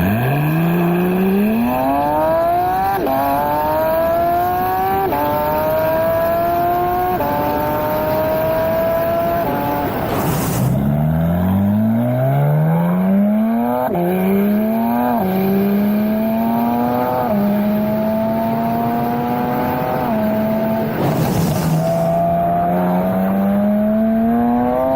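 A Porsche 992 GT3 with an Armytrix exhaust accelerates hard along a highway, its flat-six revving toward 9,000 RPM. The loud, close engine note climbs through each gear, with several sharp upshifts.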